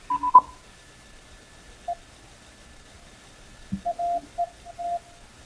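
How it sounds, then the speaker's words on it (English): Short beeps of a single audio tone on an amateur radio receiver through a narrow filter, with a few brief bursts early and then a cluster of clipped tones near the end, faint against a quiet background. "you should be able to very clearly hear that particular one tone"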